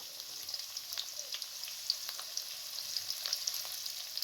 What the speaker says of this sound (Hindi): ऑयल जैसे ही गर्म हुआ है, साबुत गर्म मसाले को शामिल कर दें और इसके साथ आप प्याज को शामिल कर दें